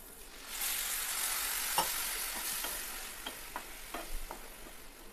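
Lentils with spices and added water get stirred in a cooking pot for khichuri, a steady bubbling hiss with scattered scraping taps of a spoon against the pot, no voices heard.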